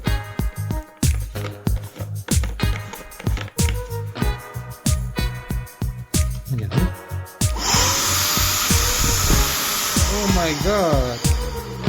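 A paint spray gun blowing air: a series of sharp clicks and knocks, then a loud, steady, close hiss of rushing air that starts partway through and continues to the end.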